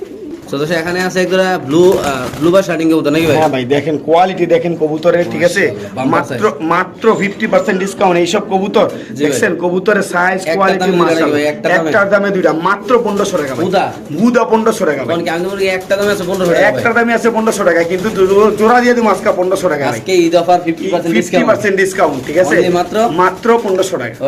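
Fancy pigeons coo continuously in overlapping, throaty calls, close and loud, with someone talking over them throughout at a pigeon sale.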